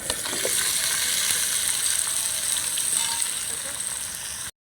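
Potato and pumpkin pieces fry and are stirred in oil in a pan, giving a loud, continuous close-up sizzle with faint scraping throughout.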